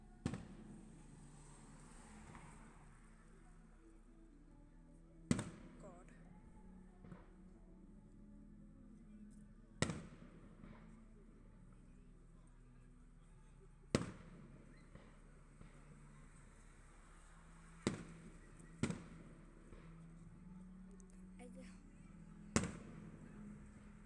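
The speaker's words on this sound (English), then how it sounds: "These fireworks are so good." Fireworks burst at intervals against a quiet night backdrop, roughly seven sharp, fairly distant bangs spaced a few seconds apart over low background rumble.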